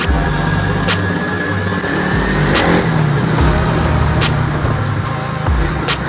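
A Lamborghini Superleggera roars nearby, its engine revving loud and steady over several seconds with rising pitch sweeps amid street noise.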